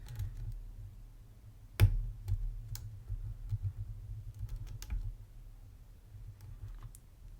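A vintage American Lock padlock being picked gives a few faint, sharp metallic clicks and light taps spread over several seconds against a low, quiet hum.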